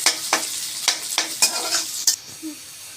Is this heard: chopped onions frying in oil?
yes